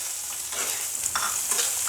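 Brinjal tipped into a pan of frying potatoes, a steady close sizzle broken by a few scraping stirs and soft clatters as the pieces settle in the hot oil.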